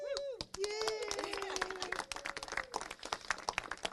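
Audience applause at a children, youth and families department press conference, a short burst of clapping from the room mixed with voices and chatter, moderately distant.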